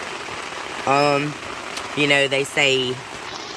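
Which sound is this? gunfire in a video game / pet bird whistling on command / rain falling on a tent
rain falling on a tent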